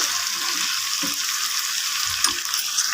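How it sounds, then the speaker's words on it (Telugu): Ginger garlic paste frying in a pan for mutton pickle, a steady, close, continuous sizzle with a few soft stirring scrapes and no talk. "ఇప్పుడు అల్లం వెల్లుల్లి పేస్ట్ కూడా ఇందులోనే వేసేసుకొని బాగా ఫ్రై చేసుకోవాలి"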